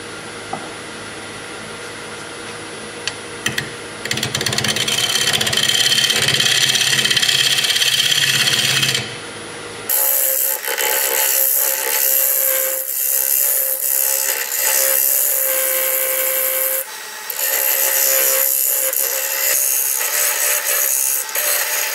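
A wood-turning lathe in a home workshop runs steadily for the whole stretch, with a loud humming drone overlaid by rough scraping and rubbing of tool on spinning wood, its tone shifting abruptly partway through.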